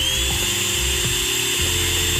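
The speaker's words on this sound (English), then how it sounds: "But it's actually, it's a pretty quiet drill." A steady, high-pitched electric nail drill whine runs continuously, loud and close, with a constant motor hum underneath.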